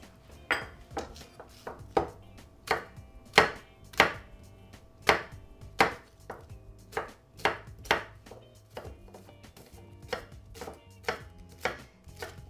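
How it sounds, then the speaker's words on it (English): Red onions being chopped with a knife on a board for pomegranate salsa, a run of sharp, evenly spaced knife strikes, close and crisp with no talk. "we're going to cut up some onion"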